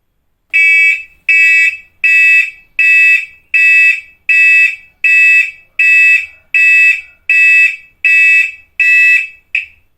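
An earthquake alarm device sounds loudly and alone, a bright electronic beep repeating about eleven times in an even rhythm, each pulse short with a small gap between.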